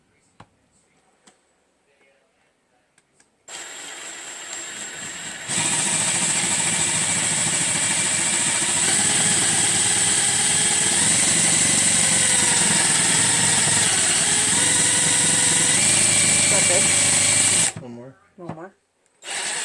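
Power drill boring holes into a wooden Yule log: after faint sounds, a steady high whine starts, steps up louder and runs continuously for about twelve seconds before cutting off, with a voice speaking briefly.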